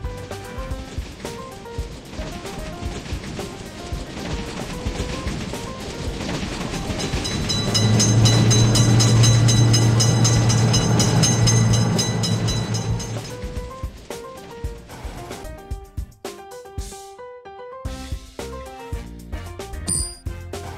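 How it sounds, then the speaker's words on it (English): Train rolling through a motor vehicle railroad crossing, loud and close, swelling to a heavy rumble with a ringing crossing bell in the middle of the passage, then fading back to steady clanging and wheel clatter. "Attention, train is coming."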